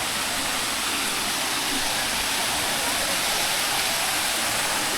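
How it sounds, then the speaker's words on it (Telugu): Katiki Waterfall near Araku pours in a constant, dense roar heard from below the falls, steady and enveloping for the full length. "ఇది కట్కి వాటర్ ఫాల్స్ కింద."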